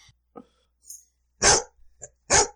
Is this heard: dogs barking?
yes